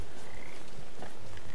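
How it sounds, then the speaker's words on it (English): Frogs croak in a game environment in Papo & Yo, short raspy calls over a dense, hissy ambient bed, moderately loud and continuous with no talking. "Oh, you're after frogs again, are you?"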